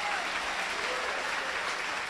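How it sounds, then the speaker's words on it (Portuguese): Churchgoers applaud vigorously during an evening service, an even, full sheet of clapping from a large congregation that sustains for about two seconds. "então aplauda bem forte a Jesus nessa noite"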